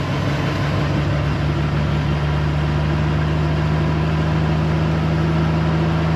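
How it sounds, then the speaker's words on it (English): Snowcat engine idling on choke while warming up, a steady low rumble with constant vibration, close and continuous throughout without any talk. "that's how it usually idles warming"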